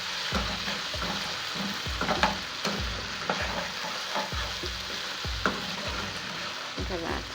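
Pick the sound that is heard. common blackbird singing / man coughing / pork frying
pork frying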